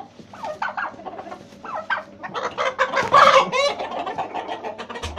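Several chickens cluck and squawk close by in an agitated flurry as they attack a leg-banded hen, calls overlapping and rising to a loud burst midway.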